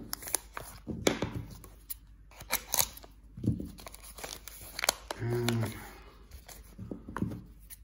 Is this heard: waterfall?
no